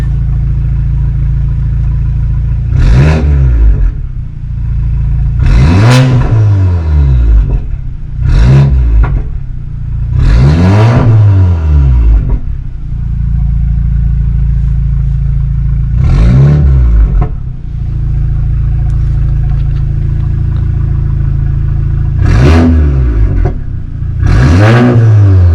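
An Audi engine, apparently an A4, S4, RS4, A5, S5, RS5, Q7 or SQ7, revs loudly in about eight sharp bursts over a steady close idle, each blip rising and falling quickly, with no talking.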